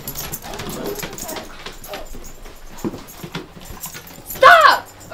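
A dog is heard near and fairly loud among people's voices, with scuffling and yelps throughout and a sharper whimpering cry near the end.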